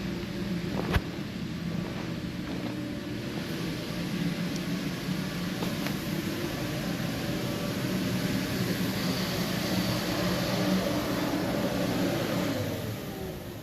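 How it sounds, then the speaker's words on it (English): An electric blower inflating a double-slide combo bounce house roars as a loud, steady broadband drone for the whole stretch, easing off slightly only at the very end. "you're going to walk around and shut your blower off."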